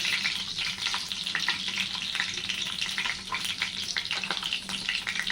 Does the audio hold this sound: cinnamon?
yes